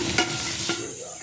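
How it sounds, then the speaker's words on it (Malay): Meat being sautéed in a pan with dry spices that were blended, stirred steadily with a continuous sizzle and a couple of scraping stir strokes, close and alone with no talk. "Tumis, sekarang kasih masuk daging ya."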